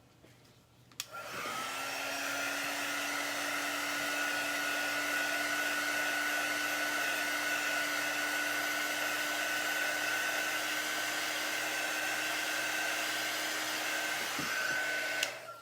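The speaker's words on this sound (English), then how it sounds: "I'm going to dry it a little bit and then peel the tape off" Hair dryer blowing steadily on a chalk paste stencil project taped down for drying, a continuous close whir with a strong motor tone that starts after a click, runs about thirteen seconds and cuts off.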